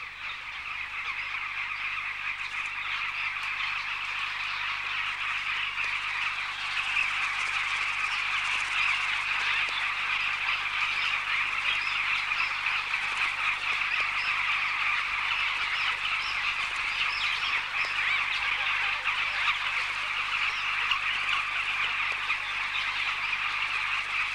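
A colony of bee-eaters in a sandbank calls noisily in a continuous dense chorus of chirps, steady and moderately loud throughout, mobbing a raiding monitor lizard.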